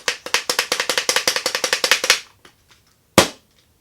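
A Nerf marshmallow blaster fires air in a rapid run of about twenty sharp pops over two seconds. One louder single shot follows after a short pause. The sound is close and loud, with no talking.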